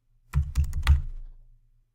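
A short burst of a few quick, soft keystrokes on a computer keyboard, close and faint in an otherwise quiet room.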